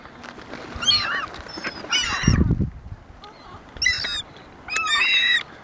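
Seagulls in a flock being fed fries and chicken sandwiches, calling in repeated loud, piercing squeals and yelps in short bursts, with a brief low thump in the middle.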